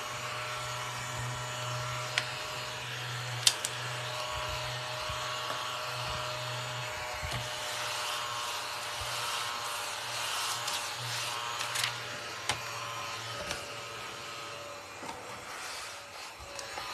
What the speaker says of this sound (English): I'm just going to vacuum up.